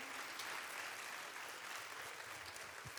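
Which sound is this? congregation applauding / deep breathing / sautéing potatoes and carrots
congregation applauding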